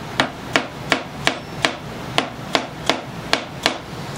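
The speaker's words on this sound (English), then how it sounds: "Just pound them in." Steady hammer blows, about eleven sharp strikes roughly a third of a second apart, pounding wooden keys into a Strat-style guitar neck, wood knocking into wood, close and clear with no talk.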